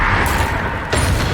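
A Confringo blast spell explodes in the Hogwarts Legacy video game, with two loud, sharp bursts about two-thirds of a second apart over a constant rumbling game backdrop.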